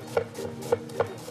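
A knife slices through an onion on a cutting board while dicing it for red beans and rice, three distinct sharp cuts spaced about half a second apart, close and moderately loud.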